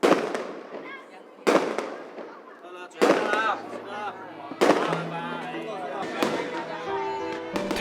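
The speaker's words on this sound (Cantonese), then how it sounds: "聽住唔間斷嘅炮仗聲" Firecrackers burst again and again at a Cantonese New Year festive family gathering, sharp loud cracks arriving in clusters with people talking and voices over the bangs.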